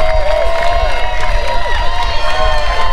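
Large crowd cheering and whooping for runners crossing a bridge at the Great North Run half marathon, a dense, loud roar with scattered shouts and whistles throughout, close and continuous; a voice talks over it.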